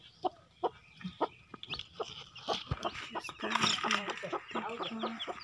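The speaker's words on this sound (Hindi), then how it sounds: "तो यहाँ पर मैंने रखा है पासी पर मुर्गी" Chickens cluck in repeated short calls, close by, building into a busier flurry of clucking and squawks toward the end.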